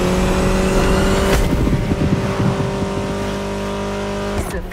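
Austin Mini Cooper S engine in the racing game The Crew Motorfest, droning loud and steady with a brief rev flare and tire scrub partway through, continuous throughout.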